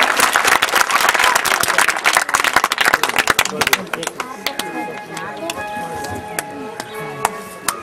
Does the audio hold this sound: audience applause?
yes